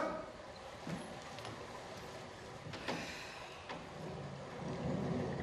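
Steady rain with rumbles of thunder, a broad wash that swells louder toward the end with a few brief cracks along the way, and no talking.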